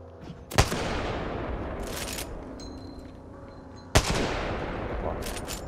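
Gunfire in a battle-royale shooter, heard as two sharp, loud single shots several seconds apart with lighter shot bursts between them. Nobody speaks.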